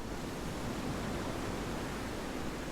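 Calm ocean waves make a steady, dense wash of surf noise that holds at an even level throughout, with no voices.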